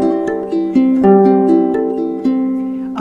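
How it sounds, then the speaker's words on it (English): Ukulele played with a pick-in strum pattern, bright chords struck in a steady rhythm of about six strokes with clear attacks, close and alone. "My pick in 6 strum sounds like this."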